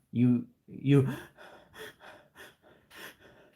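A person imitates rapid panting, with two strong voiced gasping breaths followed by a quicker run of shorter, fainter huffs, close and alone.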